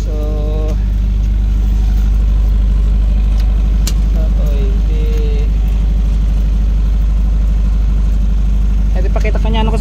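A Can-Am 1000 cc vehicle idles with a loud, steady, close engine rumble that runs throughout, while people talk over it.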